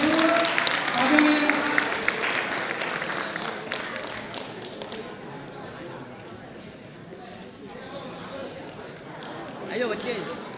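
Audience applause at a talent hunt award ceremony, a dense burst of many hands clapping that fades to a thinner patter and then swells a little again near the end.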